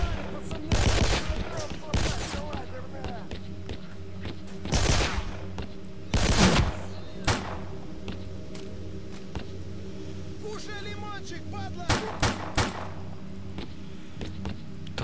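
Bursts of gunfire in the video game S.T.A.L.K.E.R. ring out in uneven volleys, sharp loud shots clustered around a few moments, with quieter scattered pops and a faint voice in between.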